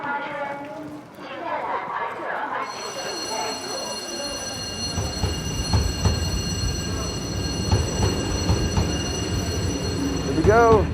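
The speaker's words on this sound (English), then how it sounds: "The train has an average speed of less than 40 kilometers per hour, but it is a bit different from a regular train." Slow passenger train in Daliangshan, Sichuan, averaging under 40 km/h, rumbles and rattles steadily on the rails with a rhythmic clatter, under nearby voices and carriage noise throughout.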